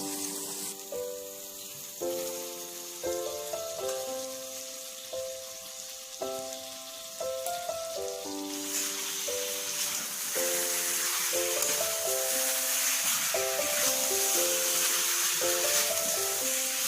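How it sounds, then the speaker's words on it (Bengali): Marinated chicken hitting a hot pan and frying, a steady loud sizzle that swells and holds over a backdrop of bright melodic background music. "এবার ম্যারিনেট করে রাখা চিকেনটা দিয়ে দেবো।"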